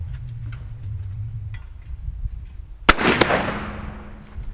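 A single sharp shotgun blast at a clay target on a quail course, loud and abrupt with a quick echo tail, after a quiet stretch of faint outdoor background.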